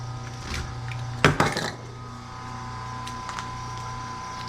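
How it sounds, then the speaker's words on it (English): A knife slices insulation off thick aluminum cable, giving one short, close scraping burst of a half-second or so, then only a steady low hum. "Go ahead and get my knife. Hit them spots there where it doesn't quite go deep enough."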